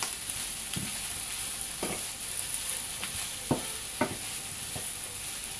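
Pieces of tilapia fish frying with red pepper in a pan, a constant close sizzle broken by several short scraping knocks as the mixture is stirred, no voices.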